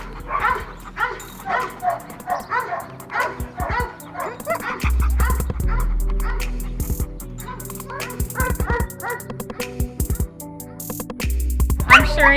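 A young dog, just over a year old, yips, barks and whimpers in quick repeated bursts close by, with excited high cries, and people talk in places.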